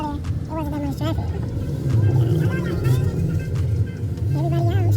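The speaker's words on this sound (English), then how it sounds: "Look at all this traffic on the Riverwalk." Road traffic rolls along the Riverwalk, a continuous nearby rumble of passing cars with engine tones rising and falling, under steady talk from people close by.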